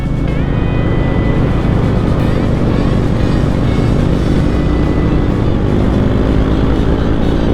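A Royal Enfield motorcycle cruises in fourth gear, its engine a steady loud drone with constant wind rush and no change in pace throughout.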